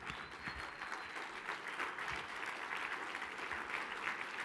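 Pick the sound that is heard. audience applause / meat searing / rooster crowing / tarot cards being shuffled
audience applause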